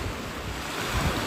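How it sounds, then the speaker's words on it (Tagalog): Sea waves wash onto the shore at New Haven in East London, a steady loud roar of surf mixed with wind buffeting the microphone, with no voices. "yung ingay ng dagat"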